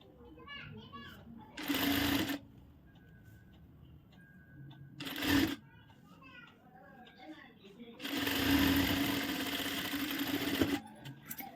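Sewing machine stitching a blouse, three close, loud whirring bursts of rapid needle strokes, short, short, then longer, with someone talking in between and a voice in the background.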